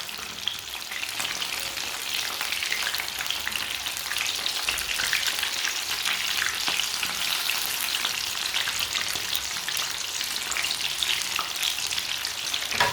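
Chicken leg pieces frying in hot oil, with a loud, dense, continuous sizzle heard close up and faint stirring underneath, no voices throughout.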